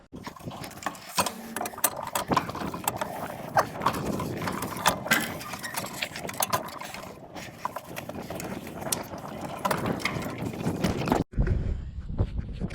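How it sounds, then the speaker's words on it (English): Clips on a seeder are undone and its metering roller is worked loose, giving a run of dense metallic clicks, rattles and knocks close by before a sudden stop and a short low rumble. "We'll go and undo the one on the other side, and the roller should just drop out."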